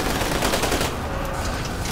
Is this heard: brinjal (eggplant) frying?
no